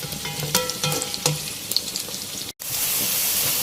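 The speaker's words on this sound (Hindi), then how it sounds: "इस प्याज को हमें बिल्कुल सुनहरा कर लेना है, गोल्डन ब्राउन सा कलर आ जाए इसका। बहुत अच्छी तरह से हमें इसे बिल्कुल फ्राई कर लेना है।" Finely chopped onions frying in a pan until golden brown, a steady close sizzle with scattered stirring clicks and scrapes, then a brief cut into a brighter, louder hiss.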